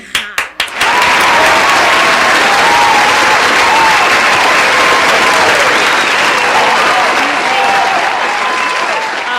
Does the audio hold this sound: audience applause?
yes